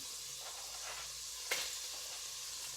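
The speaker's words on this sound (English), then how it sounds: "Now I'm just going to put my bacon in." Chopped bacon sizzles steadily in a hot pan, a soft continuous frying hiss with a brief louder burst of crackle as the pieces drop in, heard alone without voices.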